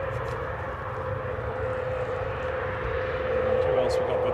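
A fixed-wing aircraft arriving at Manchester Airport makes a steady, moderately loud engine drone with a sustained tone, and it swells slightly near the end while people talk over it.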